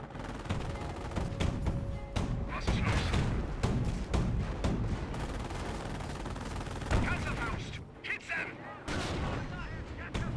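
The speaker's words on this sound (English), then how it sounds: "Mortar half track looks like a direct hit there." Mortar half-track firing in Company of Heroes amid a chaotic battle, with repeated booming shots and rattling gunfire in dense, sharp bursts throughout.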